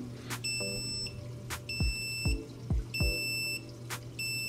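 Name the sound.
ICECAP auto top off alarm beeping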